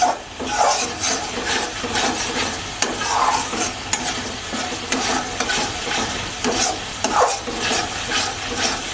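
Spices and chili powder fry in a pan while being stirred, giving a loud, continuous close sizzle broken by repeated scraping strokes and rustling of the mixture, with no one talking.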